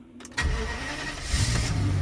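Jaguar V12 engine cranking and catching, a short starter whir giving way to a deep, rough running rumble that swells slightly, close and loud with no talk.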